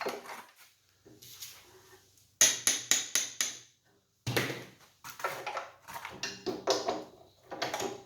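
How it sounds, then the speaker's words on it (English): A metal piston being tapped down during a repack of a Graco 650PC paint sprayer, with a run of sharp, close hammer knocks followed by a looser burst of clattering metal hits. "We'll tap the piston down."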